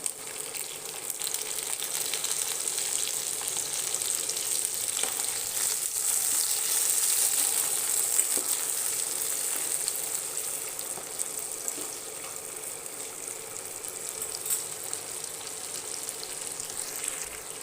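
Chopped tomatoes fry in a hot pan for paneer masala, giving a steady, close hiss of sizzling oil that holds at an even level throughout, with no voices.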